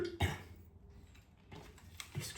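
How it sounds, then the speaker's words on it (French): Two or three harsh coughs, separated by short pauses, close and fairly loud, with faint clicking in the background. "Vous avez vu, je tousse fort encore."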